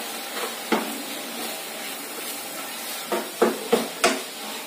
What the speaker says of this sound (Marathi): त्याला परतून घेणार आहे